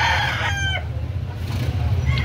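A rooster crows at a gamecock market in Carbon, Cebu City, a drawn-out call over a low crowd murmur, followed by fainter crowing farther off.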